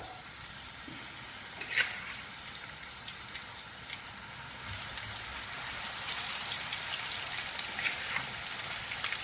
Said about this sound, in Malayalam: ഇനി മീനൊക്കെ നമുക്ക് നന്നായിട്ട് വറുത്തെടുക്കാം